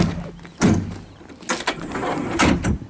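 Cab door mechanism on a 2017 Kubota SVL75-2 rubber track skid steer loader moves in a few distinct sliding, clunking bursts, fairly close, with the door being worked up and down.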